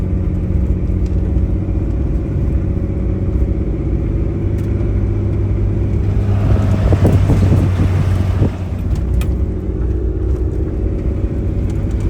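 Pickup truck towing a dumpster trailer up a steady hill: a loud, constant low engine drone mixed with road and wind noise, swelling in a rougher rumble midway before settling back, with no speech.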